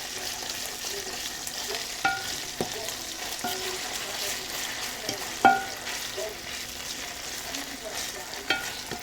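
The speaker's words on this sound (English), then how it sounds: "you mix that up, and you leave it for it to cook." Food cooking in a pan is stirred, with a soft steady sizzle throughout and occasional scraping knocks of the utensil against the pan, no voices.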